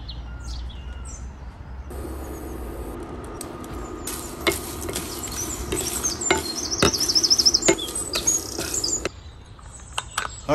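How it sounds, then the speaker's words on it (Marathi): Mace and nutmeg being pounded to crush them for a Malvani masala: a run of sharp, irregular knocks over a steady background hiss, loudest in the middle and fading off toward the end. "हे भशेन एका फोडून कुटून घेवया"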